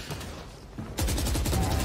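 Gunfire in a Valorant esports match shoots through a wall and a box. After a quieter stretch, a loud rapid burst of shots rattles out in quick succession.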